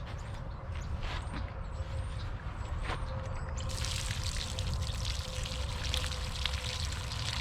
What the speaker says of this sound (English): I've just got water in this right now.